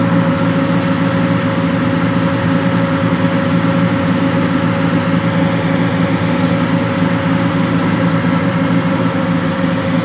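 A 1983 custom Chevy C10 truck with dual exhaust and an X-pipe idles steadily, its deep, even rumble close and loud for the whole stretch with no talking.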